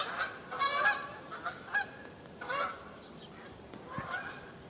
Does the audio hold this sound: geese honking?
yes